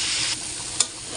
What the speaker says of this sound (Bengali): তো এখানে পেঁয়াজ ভেজে নিচ্ছি কাঁঠাল দানা ভর্তা করার জন্য।